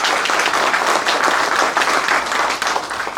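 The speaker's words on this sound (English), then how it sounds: "Round of applause for Keith Mashburn." A room full of people gives Simi Valley Mayor Keith Mashburn a sustained round of applause at a community gathering, with dense, loud clapping that holds steady throughout.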